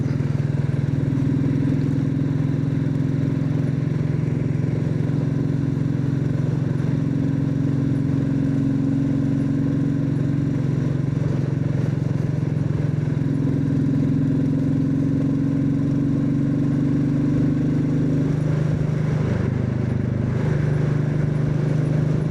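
A Royal Enfield Himalayan 450 motorcycle engine drones steadily while riding through the New Forest, with a low constant rumble and pitch rising and falling as it changes speed, wind noise underneath.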